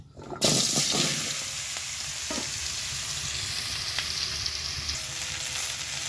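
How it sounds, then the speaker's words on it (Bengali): Drumstick stems dropped into hot oil in a kadai used for frying fish burst into loud sizzling, then settle into a steady, close frying hiss with a few light stirring knocks. "এরকম মাছ ভাজা কড়াইতে কিন্তু ডাটাগুলো দিয়ে দেবো"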